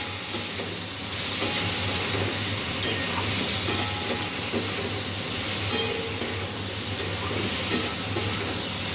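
Spices and salt sizzle steadily in a hot pan with turmeric being added, a continuous frying hiss broken by regular light scrapes and clicks of a spatula stirring, close and fairly loud with no talking.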